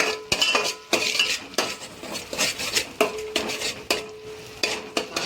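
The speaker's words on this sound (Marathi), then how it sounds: "त्याला मी आता मिक्स करणार आहे छान. मसाला छान होऊ द्यायचा आहे." Metal spoon stirring mutton masala in a pot, with repeated sharp clinks and scrapes against the pot in an uneven rhythm over a light sizzle, heard close by.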